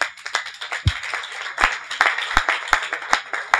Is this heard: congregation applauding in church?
yes